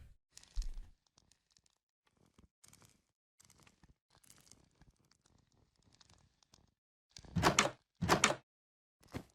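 A door in a horror-themed internet video creaks and thumps through a quiet stretch, with scattered soft clicks and rustles before two loud, harsh bursts near the end.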